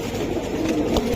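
Domestic pigeons coo softly and steadily, a continuous low warbling murmur close by with no one talking.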